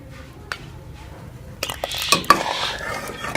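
A spoon stirs thick rabri with saffron-soaked milk in a cooking pot. Near-quiet at first, then close scraping and clinking of metal on the pot.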